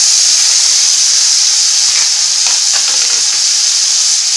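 Chopped onion and tomato fry in a hot pan for chicken liver masala, giving a loud, steady sizzle and hiss with faint stirring scrapes partway through and no talking.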